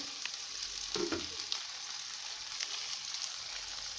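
Soft, steady sizzling of red chili powder, turmeric and grated coconut frying in a pan for eggplant curry, with a few light stirring clinks, quiet and close, no talking.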